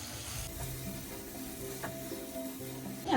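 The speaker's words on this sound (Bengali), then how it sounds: "আমি এতে আলুগুলো দিয়ে দিব।" Potatoes go into a sizzling tomato and spice curry base for catfish curry, giving a continuous close frying hiss with soft stirring and a louder burst of sizzle at the end.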